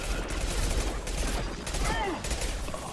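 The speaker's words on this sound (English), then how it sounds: "I switched to the submachine pistol." Rapid three-round bursts from a submachine pistol in Mass Effect 2, clattering steadily through dense combat noise without pause.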